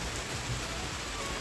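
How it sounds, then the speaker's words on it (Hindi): Heavy rain falling steadily during a festival day at home, a dense even hiss of drops on surfaces, close and continuous with no voices. "इतना बारिश हो रहा है।"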